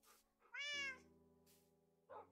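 A cat in the Minecraft video game gives a couple of short, clear meows close up, with brief quiet gaps between calls.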